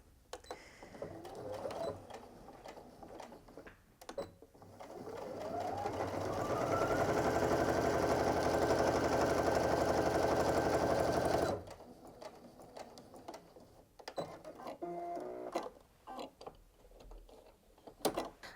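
Brother Innov-is F580 sewing machine stitching through eight layers of fabric: short bursts of stitching, then a long steady loud run of rapid needle strokes of about seven seconds that winds down, followed by quieter handling clicks.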